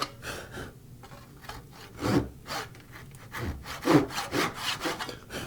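A hand saw cuts down into wood for a miter spline joint in a live joinery window: close, rasping back-and-forth strokes in an uneven rhythm, with a few louder pushes standing out.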